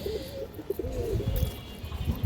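Pigeons in a large collection coo softly in low, rolling calls, several overlapping murmurs against a quiet background.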